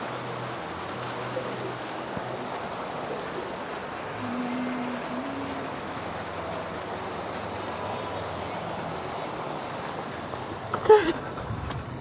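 Steady rain patters continuously on a surface, close and even, with a brief louder knock near the end.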